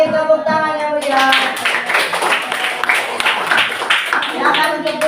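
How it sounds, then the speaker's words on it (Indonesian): A classroom of students claps hands together in a lively burst of applause, steady and close, with voices mixed in over the clapping throughout. "Kasih tepuk tangan yang meriah."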